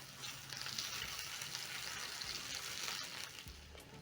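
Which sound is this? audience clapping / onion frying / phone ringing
onion frying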